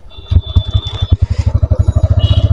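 A motorcycle engine fires up and settles into a rapid, regular low thumping idle that revs slightly as the bike pulls away, close and loud.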